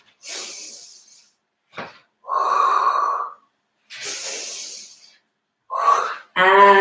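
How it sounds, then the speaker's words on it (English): A person breathing deeply in and out during a Pilates exercise, with long audible inhales and exhales alternating with silent pauses, close and fairly loud, with a brief voiced sound among them. "Inhale and exhale. Inhale and exhale."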